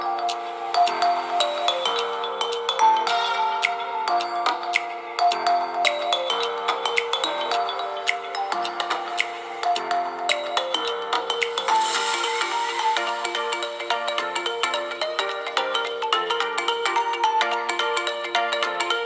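Music plays from the built-in speakers of a Samsung Galaxy Note 10 Plus phone, a bright, tonal melody with steady plucked notes and a thin, phone-speaker quality, continuous and fairly loud with no talking.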